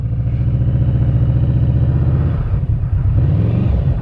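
A loud 200-horsepower Yamaha V-Max motorcycle engine rumbles steadily up close, with a deep pulsing throb that dips briefly and then picks back up.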